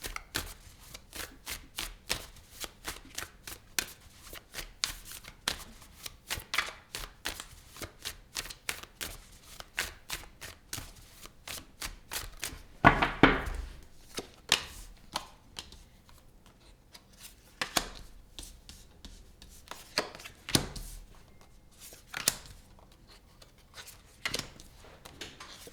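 Tarot cards shuffled and pulled from the deck, a long run of quick, crisp riffles and flicks, close and fairly quiet, with a louder burst of shuffling midway and no talking.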